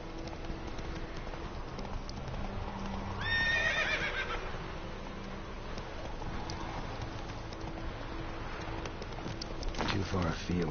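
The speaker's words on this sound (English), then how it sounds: "Run, Roach. Giddy up." A horse in The Witcher 3 video game gives one loud whinny and gallops with clip-clopping hooves, over steady rain and ambient game noise.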